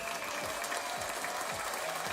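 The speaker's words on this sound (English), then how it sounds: "Yeah, hand clap." A crowd-style hand-clap sound effect rattles along as dense, continuous applause at moderate volume, with no voices over it.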